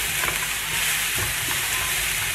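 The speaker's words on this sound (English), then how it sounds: "Give this one last stir around" Keto chicken soup stirred in a Ninja Foodi pot, a continuous bubbling sizzle with soft scraping of the spoon, close and steady with no talking.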